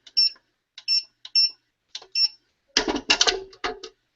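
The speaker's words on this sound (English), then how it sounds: "obviously the 4 beeps for my code, and then the loud noise is actually the unlocking mechanism winding up and releasing" A gun safe's keypad gives four short, clear electronic beeps as a code is entered, followed by a loud, close whirring rattle as the motorized unlocking mechanism winds up and releases.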